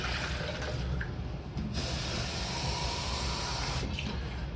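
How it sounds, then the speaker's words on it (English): Water runs steadily into the tank of a De'Longhi Dinamica Plus bean-to-cup espresso machine up close, a continuous rushing pour with little variation. "put some water in up to the B level"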